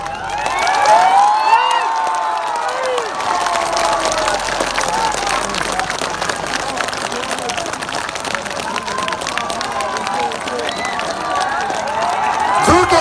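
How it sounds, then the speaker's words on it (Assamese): A large outdoor crowd at a panchayat election rally in Assam claps steadily and densely for over ten seconds, with shouting and cheering voices mixed through the applause. "আপনালোকে সকলোৱে হাত তালি বজাই"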